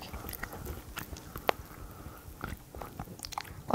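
A 25-month-old toddler bites into and chews a hotteok, a Korean sweet pancake, with faint close crunches and soft chewing scattered over a quiet room.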